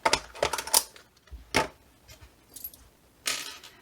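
Small metal purse feet being handled at a sewing table: a few bright metallic clinks and jingles in short clustered bursts, close and fairly quiet, separated by pauses.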